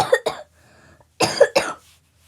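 Four sharp coughs ring out close and clear, in two pairs separated by a short quiet gap.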